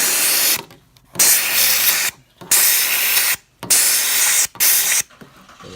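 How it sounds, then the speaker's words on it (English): A spray bottle of cleaner hisses in five bursts of roughly a second each with brief gaps between them, close and loud, while a car interior is being detailed. "We're gonna spray it down, wipe it down a little bit."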